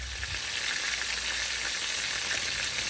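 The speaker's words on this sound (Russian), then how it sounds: "Сегодня жарим рыбу." Fish fries in a pan with a dense, steady crackling sizzle heard up close, continuous and even for the whole stretch, with no voices over it.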